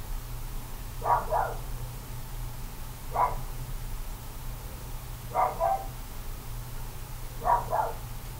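Dogs barking indoors, several short double barks repeating every couple of seconds at moderate distance over a steady low background hum, with no talking.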